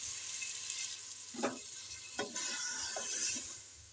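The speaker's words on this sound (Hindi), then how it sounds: "तो अब हम इसमें पानी शामिल कर देंगे, क्योंकि हमने इसको वेट लगाना है, तो थोड़ा सा ही पानी हम डालेंगे।" Water poured into a pan of potatoes and fenugreek leaves frying for aloo methi, bringing a steady hiss and sizzle with a few splashes and stirring scrapes close by.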